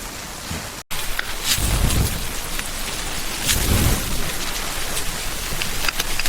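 Heavy rain pours steadily in a thunderstorm, a dense hiss throughout, with low rolling thunder swelling twice in the middle.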